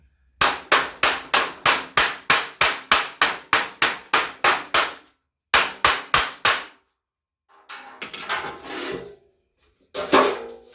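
A hammer pounds a squarebody Chevy roll pan being straightened, giving a fast, even run of about thirteen loud, sharp blows. After a short pause come four more, then a stretch of scraping and rubbing and a final few hits.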